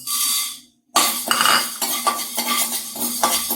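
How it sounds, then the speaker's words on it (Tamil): Black pepper and fenugreek seeds dry roasting in a pan, stirred with a metal spoon, giving a quick string of close scraping clinks and rattles after a short pause, with no talk. "இப்போ வந்து இந்த மிளகையும் வெந்தயத்தையும் வறுத்துக்கலாம்."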